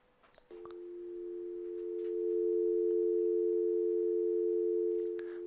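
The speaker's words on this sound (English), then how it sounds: "hopefully we'll hear some dial tone signal" A generated DTMF dual-tone telephone signal sounds as a steady, loud pair of pure tones that switch on after half a second and hold continuously, swelling slightly louder midway, with faint clicks at the start and end.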